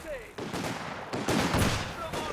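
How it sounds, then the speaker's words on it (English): A Bofors gun fires a barrage in a battlefield video game: a dense run of overlapping blasts and heavy booms, close and loud, with a voice faintly underneath. "The Bofors managed to pin them down with its barrage ability"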